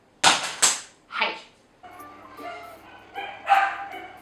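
A dog barks outdoors in three sharp, fairly close bursts, followed by quieter indoor clatter and a louder thump near the end.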